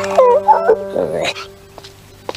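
Dogs in a family home give a few high whimpers and yips up close, then fade, while a person speaks German nearby.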